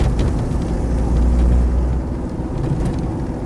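A diesel Land Rover 90 2.5D engine drones steadily with a low, slightly harsh rumble as it pulls under acceleration, heard from inside, with no talk.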